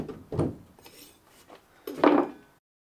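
A knife scrapes around the lip of a pour hole on a ceramic casting mould, giving two short scraping bursts, the second longer and louder, close up with no talk.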